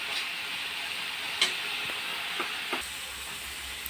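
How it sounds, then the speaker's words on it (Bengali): Bashpati dried fish with chili powder fries in a pan, a steady soft sizzle and hiss with a few faint clicks from stirring. "একটু সময় ভেজে এরপর নামিয়ে নেব"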